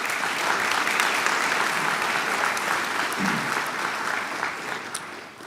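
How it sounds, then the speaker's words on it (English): An audience at a school awards night and National Honors ceremony claps in a sustained, dense round of applause that fades slightly toward the end. "Let's give them another round of applause."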